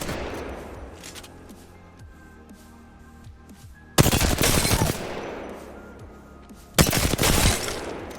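Rapid automatic R301 rifle fire in a video game comes in two loud, sharp bursts of closely spaced shots. Quieter game ambience, faint tones and scattered distant clicks sit between them, and no one speaks.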